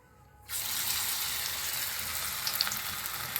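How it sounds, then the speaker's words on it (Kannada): Watermelon peel pakoda dropped into hot oil, the frying bursting into a loud, steady hiss after a quiet start and holding close and continuous, with faint pops near the end. "ಈ ರೀತಿ ಎಣ್ಣೆ ಕಾಯ್ದ ನಂತರ ಒಂದೊಂದೇ ಪಕೋಡವನ್ನು ಎಣ್ಣೆಯಲ್ಲಿ ಬಿಡಿ"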